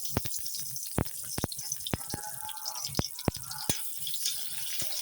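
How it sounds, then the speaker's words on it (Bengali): Stinging catfish sizzling and frying in a pan for a village-style bitter gourd curry, with a soft continuous sizzle broken by sharp clicks and spatters. "শিং মাছটা একটু কষায় নিই"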